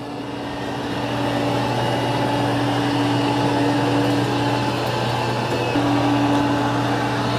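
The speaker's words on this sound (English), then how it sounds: "So it's doing a good job of vacuuming." An iRobot Roomba j9+ or i5+ self-emptying robot vacuum cleans carpet, giving a steady whirring motor hum with a constant tonal whine that holds level and close after spinning up.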